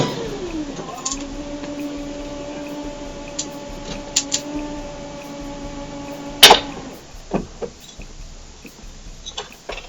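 A van's transmission dropping down beneath the vehicle, heard from a security camera: a steady mechanical whine and hum, then a sharp loud clunk near the middle, followed by scattered faint rattles and knocks.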